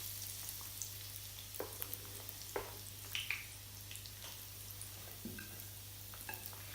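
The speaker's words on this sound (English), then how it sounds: "roll it onto a spoon and place into the oil" Chicken cordon bleu pieces frying in hot oil, giving a quiet, steady sizzle with scattered small pops and crackles; no voices, under a constant low hum.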